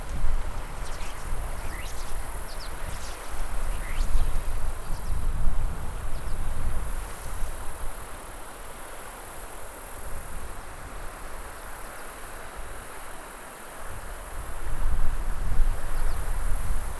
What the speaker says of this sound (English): it's absolutely amazing how many grasshoppers out here